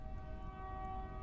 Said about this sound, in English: I am sorry about the train noise.